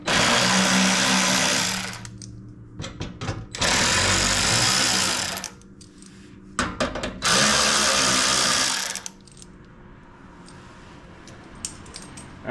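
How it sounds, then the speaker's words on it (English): A power tool spins out the 10 mm skid plate bolts on a 2016 Toyota Tundra, running in three loud, sustained whirring bursts separated by short pauses, close up with no talking. "We're going to start by removing these 3 10 mil bolts."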